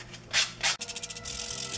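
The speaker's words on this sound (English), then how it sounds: "I'm gonna move on to some hand sanding" A wooden model plane wing is hand sanded with quick, close rasping strokes. Two longer rubs are followed by a run of short, rhythmic scrapes, then continuous friction.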